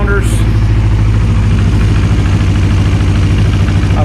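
A Kawasaki Ninja 250 race-build motorcycle engine idles steadily and loudly nearby on both cylinders with a rapid, uneven low thump throughout.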